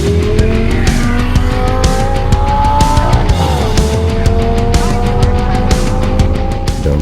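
A professional drift car roars continuously at high revs, its engine pitch climbing and dropping while tires squeal and skid loudly throughout, very close and intense with no voices.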